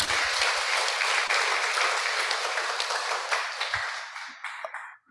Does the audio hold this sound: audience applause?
yes